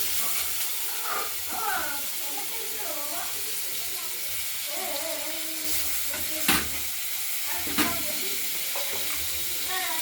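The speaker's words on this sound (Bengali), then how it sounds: "আলুগুলোকে ভেজে নেব।" Potatoes frying in oil with bay leaf, dried red chilli and cumin seeds for a katla fish curry give a steady close sizzle and hiss, with occasional sharp pops and spatters and a voice speaking over it.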